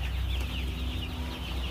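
Kaveri gavran chickens, about forty days old, cluck on a poultry farm, a busy overlapping chorus of soft clucks and calls against a steady farm background hum.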